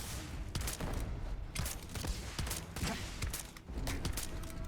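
Dense, rapid bursts of automatic turret fire in the Starfield video game, loud and continuous throughout with sharp overlapping shots and a brief lull near the end.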